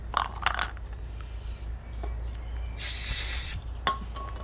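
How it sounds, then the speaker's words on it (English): Brake cleaner sprayed onto the brake parts of a 2011 BMW X1 during a pad replacement, a loud close hiss lasting under a second, with a few metallic clinks before and after. "Good old brake cleaner."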